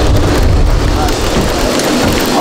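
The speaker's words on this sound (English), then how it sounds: "And then you see how the rain start right after?" Steady rain pours down outdoors in Atlanta, forming a constant dense hiss with low rumbling underneath that holds at the same level from start to finish.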